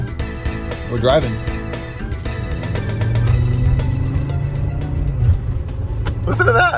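A cheap '90s Acura engine rumbles low and steady while driving, its drone rising partway through, with people talking inside the car over the engine noise.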